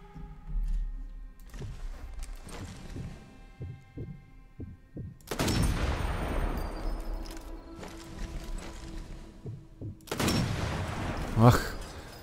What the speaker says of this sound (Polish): Ach, ale wybuchło,